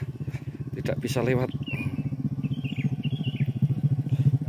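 A motorcycle engine idles with a steady, throbbing low pulse on a muddy dirt road in the rain, close by, while someone talks over it and birds chirp faintly in the background.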